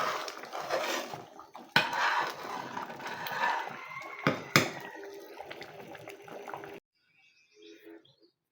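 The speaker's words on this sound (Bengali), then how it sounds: "তো এখন একটু আমি হাতা দিয়ে নেড়ে দিচ্ছি।" A ladle stirs moong dal cooked with katla fish head in a pot, making wet sloshing and scraping with a few sharp metallic knocks against the rim, close and steady before it stops into near silence.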